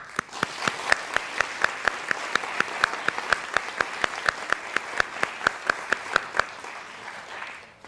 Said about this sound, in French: Dernier batch de remerciements et applaudissements